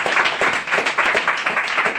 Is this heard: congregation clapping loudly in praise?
yes